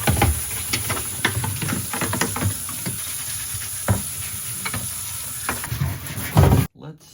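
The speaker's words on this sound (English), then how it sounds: "let's see if this steamer will clean up this delightfulness" A steam cleaner hisses and sputters against a Land Rover Discovery 2 car door panel, a close, continuous spray crackling with irregular bursts before it abruptly cuts off near the end.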